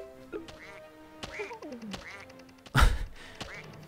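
Cartoonish duck quacks from the video game Mario + Rabbids Kingdom Battle, several short nasal calls spread across a few seconds, with a sudden louder thump near the end and faint game sounds around them.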